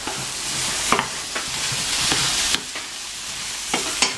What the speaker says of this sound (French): Donc 2 bonnes cuillères à soupe de chapelure. Je mélange.